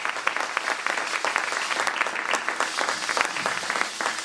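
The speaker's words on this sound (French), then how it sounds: "On acclame très fort pour notre Dieu." A church congregation at a prayer service for DR Congo applauds loudly, a steady, dense clatter of many hands clapping that fills the room.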